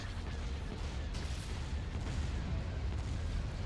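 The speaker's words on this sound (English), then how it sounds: "Ion cannon firing." Ion cannon fire in the Star Wars Empire at War strategy game, a low, continuous rumbling barrage of distant booms and blasts, fairly faint and steady throughout.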